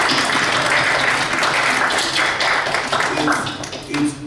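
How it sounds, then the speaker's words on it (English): An audience at an African film festival symposium in a public library breaks into applause, a dense, loud wash of clapping with voices rising through it toward the end. "I think we should do a round of applause for Mr."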